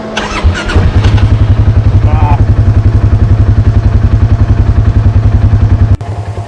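A Polaris RZR off-road vehicle engine cranks and catches at the start, then runs in a loud, steady, pulsing idle close by before cutting out near the end.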